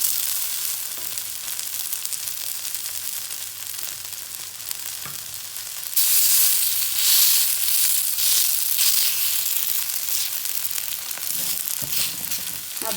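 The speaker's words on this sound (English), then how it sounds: "Press it nicely with a spoon so that the bottom will roast well." Hash browns sizzle loudly in a hot pan while being pressed down with a spoon, giving a dense, continuous frying hiss that grows stronger halfway through, with faint scraping underneath.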